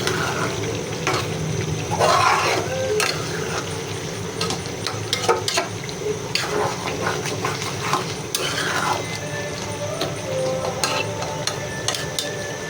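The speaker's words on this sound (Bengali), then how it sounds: "অল্প অল্প জাল দিয়ে একটু একটু করে কষাচ্ছি সিদ্ধ হয় আর লেগে না যায়" Beef tripe stir-fried in a pan over low heat, with steady sizzling and frying plus repeated scraping and clinking of a spatula against the pan, close up and continuous without talk.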